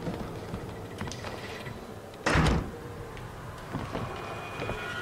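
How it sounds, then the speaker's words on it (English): In the horror video game Outlast 2, a front door shuts with a single loud, short thud midway through, set against a steady background hiss of ambient noise. "close the front door"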